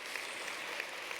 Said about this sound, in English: Yeah, you could clap for that too.